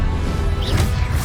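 A spell-impact effect from the Hogwarts Legacy video game: a single loud crashing smash over a dense, rumbling game soundscape, brief and close.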